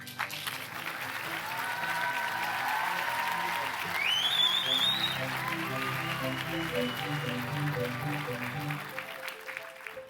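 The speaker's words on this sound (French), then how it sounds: "Et on peut l'applaudir." An audience at a doctoral graduation ceremony applauds steadily for about ten seconds, with dense, even clapping that fills the hall, a few whoops, and a voice faintly heard underneath.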